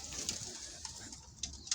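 Badrangi pigeons kept in a home loft coo softly in several brief, faint calls spread across the moment, with low background noise and no speech.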